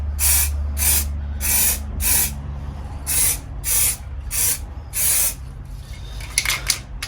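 An aerosol spray paint can sprays a motorcycle wheel in about nine short bursts of hissing, each roughly half a second, close and loud, with a low steady hum behind.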